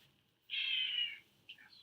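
A pet male cat held up to a camera lets out one long, clear meow, then a short chirping call after a brief pause.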